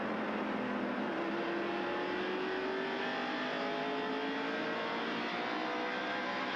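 NASCAR Winston Cup stock cars at the 1989 Holly Farms 400 short-track race roar past continuously, with layered engine whines sliding up in pitch as faster cars overtake, a dense and steady mid-distance racing drone.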